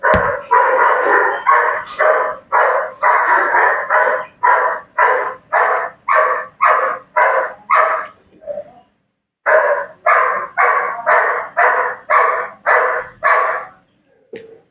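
A dog next door barks repeatedly in a steady, loud rhythm, a run of about a dozen barks, a short pause, then another run of barks.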